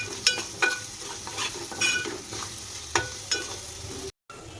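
Ginger garlic paste frying with browned onions in a pan, a soft steady sizzle broken by several sharp scraping stirs of a spoon against the pan, close and alone, with a brief dropout near the end.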